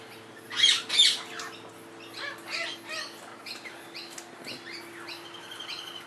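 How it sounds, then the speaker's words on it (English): A young male King Parrot and lorikeets call in the trees on a morning after a storm, with sharp squawks at first and then a run of chirps and twitters at moderate distance. "Beautiful young male King Parrot."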